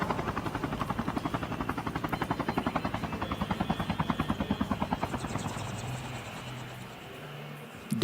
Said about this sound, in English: Baziman on the chopper.